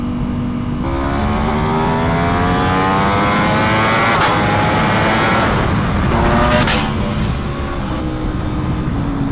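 A Ducati V4 Superleggera motorcycle sweeps past on a road in a loud flyby, its engine note climbing and falling through rising and sinking harmonics, with steady road noise underneath.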